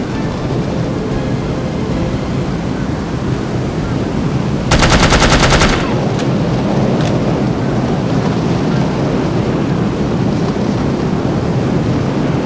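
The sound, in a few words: gunfire in video game No One Lives Forever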